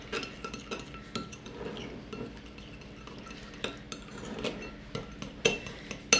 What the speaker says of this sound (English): now I'm just going to mix it